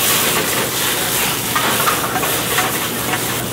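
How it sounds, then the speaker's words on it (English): Green onion, garlic cloves and capers sizzle in a hot pan, a steady close hiss and crackle of frying with small pops, heard alone without talk. "We let those to sizzle a little bit."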